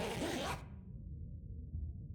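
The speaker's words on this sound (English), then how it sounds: "That is the sound of the wind dying down." Wind in The Long Dark survival game dies down: a broad, hissy gust fades out within the first half-second, leaving a low, steady rumble that carries on quietly alone.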